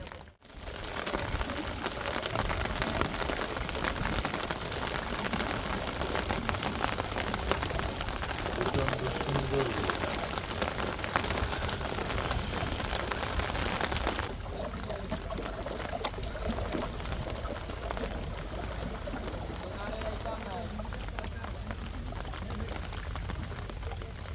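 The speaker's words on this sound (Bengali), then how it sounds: "টিপ টিপ একটা সুন্দর বৃষ্টি" Steady rain falls throughout in Sylhet, Bangladesh, a dense hiss of light drizzle that eases slightly partway through, with no talking.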